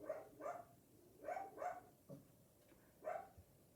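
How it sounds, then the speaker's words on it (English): A dog barking in a quiet room, a series of short, faint, repeated barks in uneven clusters, with soft whimpering between. "What is he barking at still, Bernie?"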